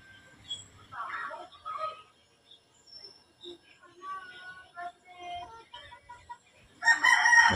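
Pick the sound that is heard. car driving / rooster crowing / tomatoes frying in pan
rooster crowing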